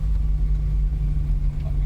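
A 1971 Vauxhall Firenza drives through a park, its engine giving a steady, close low rumble that holds evenly throughout with no talking.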